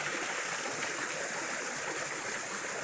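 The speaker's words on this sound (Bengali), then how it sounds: "এই দেখো ঝর্ণা" A fountain inside a butterfly garden at a safari park gives off a steady rush of splashing, flowing water, close and constant throughout with no talking.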